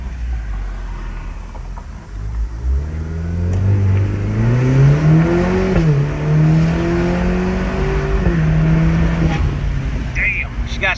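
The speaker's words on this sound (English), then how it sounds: "You got to put it in V mode. I don't do it often. I don't like to abuse the shit out of this car, but let's see a little 0 to 60 pull." A Cadillac CT4-V in V mode makes a 0 to 60 run. The engine revs climb hard through several rising sweeps with brief dips at the gear changes, loud and close inside the cabin.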